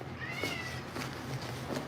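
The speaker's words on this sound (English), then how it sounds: "My cat is the nosiest little cat in the world." A house cat meows indoors, a soft drawn-out call over a steady low background hum, fairly faint and alone without talk.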